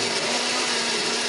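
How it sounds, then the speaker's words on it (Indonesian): A kitchen blender grinds a spice paste of ginger and candlenuts with a little added water, giving a steady, loud whirring roar that holds level from start to finish with no talking. "Hari ini aku menghaluskannya menggunakan blender, beri sedikit air supaya lebih gampang untuk menghaluskannya."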